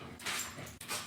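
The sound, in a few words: dog whimpering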